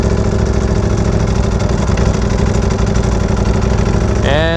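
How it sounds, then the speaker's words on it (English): A Ducati Panigale V4S idling roughly after a tune, with a loud, close, uneven engine burble throughout and a brief rising mechanical whine near the end. "And it's idling weird again."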